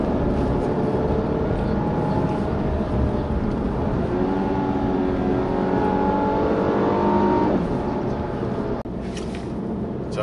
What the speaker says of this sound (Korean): 오르막 코너 아주 찰지게 올라갑니다.